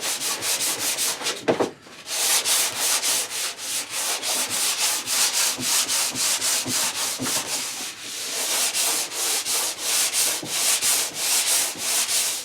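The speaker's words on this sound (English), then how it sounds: "you want to give it a little bit of extra sanding until it's smooth to the touch" Hand sanding a shellac-coated MDF assembly table, with rapid back-and-forth rasping strokes in a steady close rhythm, briefly pausing once near the start.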